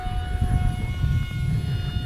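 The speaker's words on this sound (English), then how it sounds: "I'm gonna try to do a throttle, like a full throttle pass here" A small RC jet flies a full-throttle pass, a steady loud motor whine with a sustained high tone over rushing air, close and continuous.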